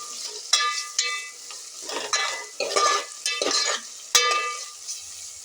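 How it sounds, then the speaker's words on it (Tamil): Vegetables for vegetable biryani are sautéed in a pan, with a soft sizzle under repeated scraping strokes and clinks of a spatula against metal, close and moderately loud. "நல்லா வதக்கி விட்டுக்கலாம்."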